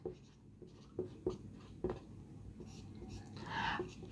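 Chalk or marker writing on a board: short scratchy strokes in a loose, uneven rhythm, close by, with a longer scraping stroke near the end and soft room noise underneath.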